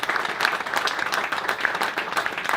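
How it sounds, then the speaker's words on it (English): Short burst of lively, dense applause from a studio audience in Houston, many hands clapping together at steady volume with a few cheers mixed in. "Please give yourselves a round of applause."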